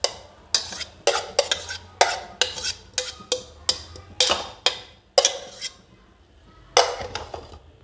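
A spoon clatters against a bowl as pakora batter for karhi pakora is mixed, giving a steady series of sharp clinks and scrapes, roughly two per second, with short pauses near the end and no talking.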